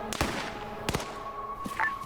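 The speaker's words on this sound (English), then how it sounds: "I hear gunshots." A few faint, distant gunshot cracks go off in a military video game, two or three sharp reports spaced apart against quiet background.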